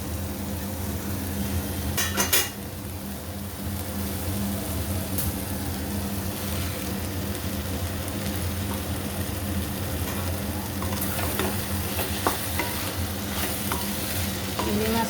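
Prawns tipped into a hot pan with taro leaves and stirred, a dense steady sizzle with a few sharp clattering scrapes of the spoon against the pan, close and fairly loud.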